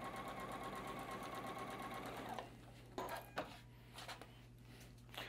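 A sewing machine runs steadily while stitching a batik fabric quilt block along a drawn line, then stops, leaving a few soft knocks and handling noises.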